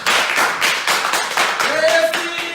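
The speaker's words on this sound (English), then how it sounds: "Please give him a round of applause." A burst of clapping from a crowd, steady and fairly loud, with a brief tonal whistle-like note near the end.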